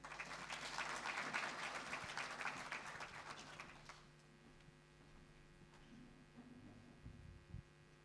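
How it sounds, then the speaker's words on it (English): Applause for a speaker at a dental programme meeting, faint distant clapping for about four seconds, then dying away to a quiet room with steady electrical hum and a few small knocks. "Let's give him a round of applause."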